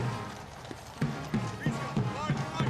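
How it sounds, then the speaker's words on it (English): Drum horses of mounted bands clop along in a Queen's jubilee parade, hooves striking in an uneven, overlapping rhythm at moderate distance beneath continuous talk and crowd noise. "the great drum horses, the mounted bands"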